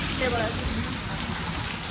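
Steady rain hisses throughout, a constant wash of falling water heard close by, with a voice murmuring faintly beneath it.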